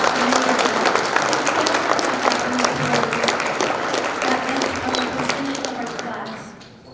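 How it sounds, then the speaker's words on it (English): Audience applause fills a high school scholarship banquet at Round Valley High School, dense and sustained clapping from a crowd that holds steady before fading out in the last second. "So a round of applause for that."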